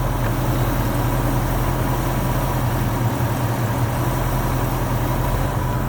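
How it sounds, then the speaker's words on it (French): A 1965 Ford Mustang V8 coupe idles steadily for several seconds, a continuous low rumble at even volume with no voices. "Le moteur, on l'entendra à peine de toute façon."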